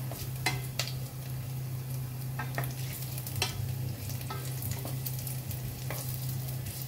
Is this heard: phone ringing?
no